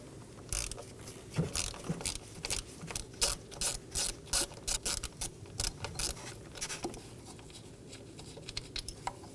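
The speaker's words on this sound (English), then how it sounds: "Right next to the ignition pack, we're going to locate an 8mm bolt. Remove it as well." Ratchet clicking in short repeated bursts while backing out an 8mm bolt beside the ignition pack of a 2014-2023 Ford Transit Connect 2.5L four-cylinder, close and fairly loud with brief pauses between strokes.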